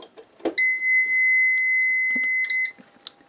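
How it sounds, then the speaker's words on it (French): A power inverter switched on: a click, then a steady high electronic beep held for about two seconds before cutting off, followed by a few faint clicks and handling noises, close and alone. "J'allume l'onduleur."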